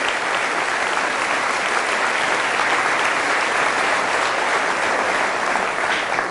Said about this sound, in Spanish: Fuerte el aplauso al Señor por la vida del Padre Eusebio